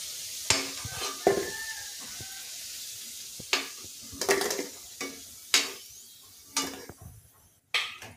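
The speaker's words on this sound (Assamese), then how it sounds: "আলুখিনি ফ্ৰাই হৈ গ'ল, মই এতিয়া এনেদৰে কাঢ়ি লওঁ।" Fried potatoes are scooped out of a hot pan of oil, a soft background sizzle broken by a series of sharp metal spatula scrapes and clinks against the pan, close and fairly quiet.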